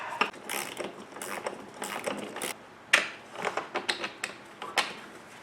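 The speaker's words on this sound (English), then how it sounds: "I'm going to use 2 wrenches here to crack this loose" Two wrenches work loose the upper front control arm bolt on an Audi B8, giving close, sharp metallic clicks and ratcheting taps in irregular bursts, with one louder crack partway through and no talk.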